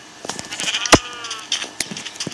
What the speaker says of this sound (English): There, we finally got some sheep in there.